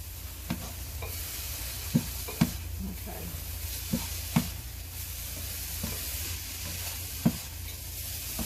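Cauliflower rice with onions and garlic sizzles steadily in olive oil on high heat, a constant close frying hiss broken by a few sharp clicks and taps of a utensil on the pan.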